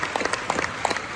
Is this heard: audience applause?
yes